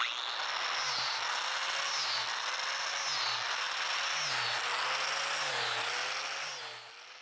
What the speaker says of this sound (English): A grinder with drill bit. And I just space out holes